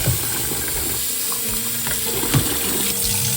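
Tap water runs steadily into a sink as a plate is rinsed, a continuous close splashing hiss with small clinks, no talking.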